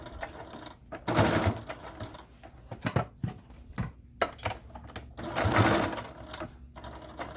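A sewing machine stitches an envelope-style pillow cover in two louder whirring runs separated by quieter clicks and handling sounds, heard close up.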